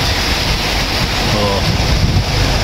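Rough, choppy sea off Camarines Sur in Bicol makes a steady, loud wash of surf with wind buffeting the microphone, a continuous close roar from start to finish.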